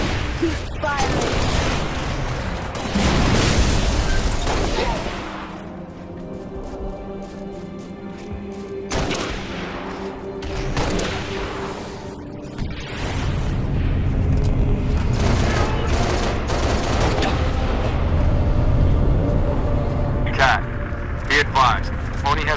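Gunfire and heavy explosions from a battle in the video game Halo Reach, with loud booms and rapid bursts of shots rolling through the whole stretch while voices talk over the combat.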